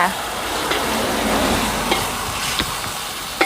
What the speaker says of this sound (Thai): คือเส้นกับถั่วงอกที่ผัดเอาไว้นะคะ ใส่ไปจ้า